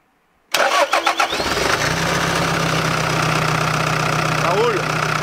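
An old Toyota engine with about 350,000 km and 20 years of use cranks a few times after silence, catches, and settles into a steady loud idle, heard close up.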